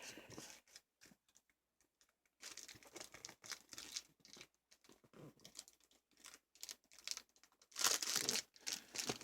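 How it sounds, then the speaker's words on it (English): Origami paper crinkles and rustles as it is handled, in quiet, irregular bursts with short pauses, close and soft, louder near the end. "Origami paper."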